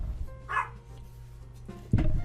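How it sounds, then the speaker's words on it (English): A dog lets out a single short bark over a low background hum, followed near the end by a louder burst of noise. "dog's barking"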